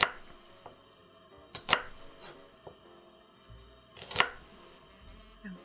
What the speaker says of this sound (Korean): 양파를 마저 다 썰도록 할게요